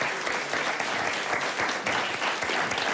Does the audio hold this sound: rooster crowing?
no